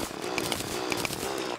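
A drill digs through the ground in the Terraria video game, a steady buzzing grind with a few short bright chimes over it, alone without talk.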